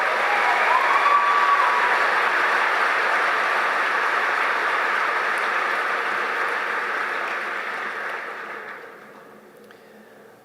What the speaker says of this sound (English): And now please a round of applause for our magna cum laude graduates.